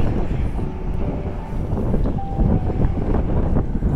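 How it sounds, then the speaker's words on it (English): Steady, heavy wind in Utah rumbles against the microphone throughout, a low constant roar with no clear voices. "And it's so windy out."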